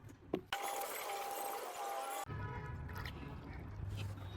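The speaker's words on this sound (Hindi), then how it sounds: "ये देखो अब हम इसके अंदर पानी भर लेते हैं" Water pours into a white plastic container, a steady rushing splash with a faint ringing tone that stops abruptly and gives way to softer dripping and sloshing, with a few clinks at the start.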